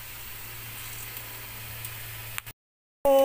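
Onions frying in a pan for a momo filling give a steady, soft sizzle with no talk, broken near the end by a brief silence and then a short tonal beep.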